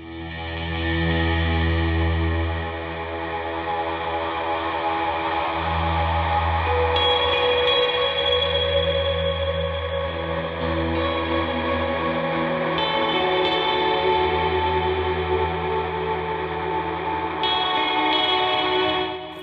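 A Replicator D'Luxe tape echo unit with two playback heads processes a squeezed, driven signal. Sustained harmonic-rich distorted tones repeat in loud, smeared echoes with reverb, and no one talks.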